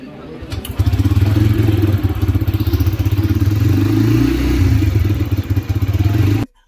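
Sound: Bajaj Freedom 125 CNG motorcycle starting with self-start

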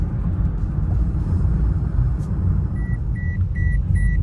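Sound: car seatbelt warning chime

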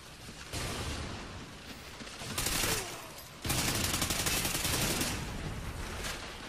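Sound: gunfire in the video game Call of Duty Ghosts

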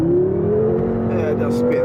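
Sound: BMW M6 Gran Coupe wheels spinning under acceleration

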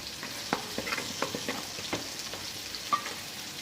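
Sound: sautéing masala with turmeric and salt in a pan

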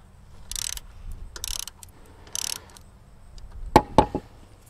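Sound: loosening 10 millimeter screws on a Bosch GCM12SD miter saw

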